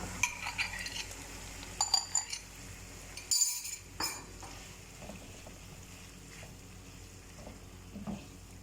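Minced meat dropped into a hot pan while stuffed bitter gourds are being made, with short clinks of a utensil and a soft frying sizzle that comes in brief bursts and then settles under low kitchen noise.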